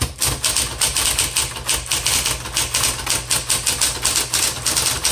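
A 1960s Smith Corona Coronet electric typewriter types in a fast, steady stream of sharp, close keystroke clacks under a constant motor hum, with no voices.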